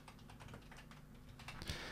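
Rapid keystrokes on a computer keyboard as a name is typed into a new Amazon wish list, a close, steady run of light clicks with no talking.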